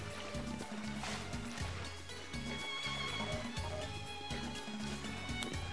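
Fast swimming through water in the video game Kingdom Hearts, continuous splashing and churning water over a looping rhythmic game music backdrop, steady and moderately loud throughout.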